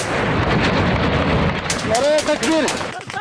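Gunfire and rocket-propelled grenade blasts in an attack on a U.S. outpost, loud booming and crackling bursts with rumbling echoes, mixed with shouting voices.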